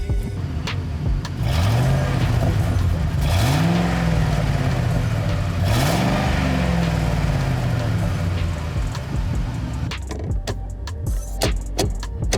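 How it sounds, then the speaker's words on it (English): A 1999 Ford F-150 Super Cab pickup drives along, its engine rising and falling in revs through several gear changes. Road rumble stays steady underneath, and clicks and knocks come near the end. "I'm using my 1999 Ford F-150 Super Cab truck."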